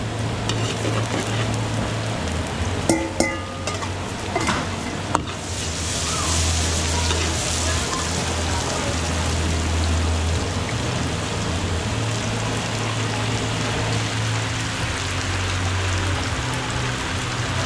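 Spicy chicken wings with garlic and chili fry in hot oil, a steady loud sizzle with occasional clatters of stirring, swelling into a denser crackle partway through.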